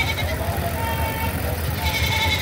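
Goats bleat repeatedly and loudly nearby, overlapping calls filling the whole stretch with steady low rumble underneath.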